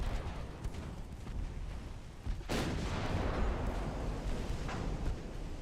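Naval gunfire from 10-inch guns in the warship game Ultimate Admiral Dreadnoughts: a low, rumbling wash of battle noise with a heavy boom partway through, then sustained roaring blasts, with no talk.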